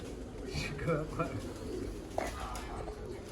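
Soft, low cooing of Teddy pigeons murmurs on and off in the background, with a brief sharper sound near the end, nearby and fairly quiet.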